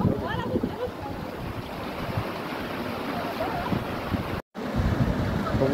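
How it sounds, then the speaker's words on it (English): A steady, broad roar of rushing water from Ruacana Falls in Namibia fills the whole clip, loud and constant, with wind buffeting the microphone. "Ruacana waterfall, man."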